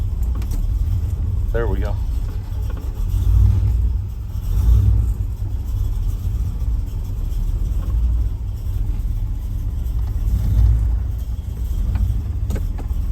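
A car engine idles with a steady low rumble throughout, after a start at a restoration shop in Bridgeport, Connecticut; someone speaks briefly over it and keys jangle faintly near the start.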